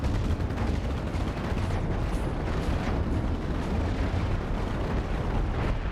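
Chain gun firing in Cosmoteer during a ship's combat test: a dense, unbroken roar of rapid rounds and impacts, loud and constant throughout.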